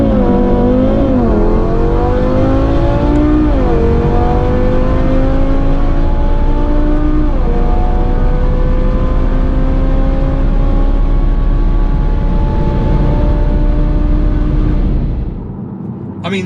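A 2019 Audi TTRS accelerating hard through the gears, loud engine tone sweeping upward in repeated climbs with brief dips at each shift, then cutting off near the end.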